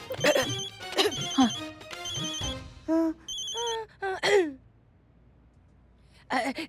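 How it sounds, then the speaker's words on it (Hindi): A mobile phone rings with an incoming call in a police station, its electronic ringtone repeating in short tonal bursts mixed in with people talking nearby, then breaking off into quiet before voices return. "डीएसपी सर का फोन आ रहा है।"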